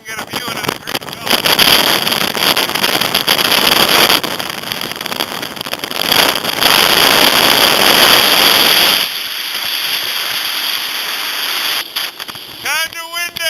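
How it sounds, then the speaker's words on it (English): Strong gusts on Mount Washington buffet the microphone in loud roaring bursts, easing partway through, with a person's voice briefly audible near the end. "Kinda windy!"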